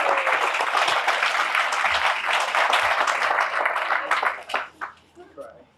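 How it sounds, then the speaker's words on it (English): Audience at a township event gives a round of applause, steady clapping for about four seconds before thinning into a few scattered claps and fading out. "Let's all give Mark a round of applause."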